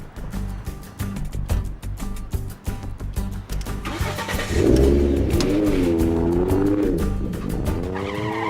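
A car engine revs hard, rising and falling in pitch as it accelerates, loud and close after a rougher idling start.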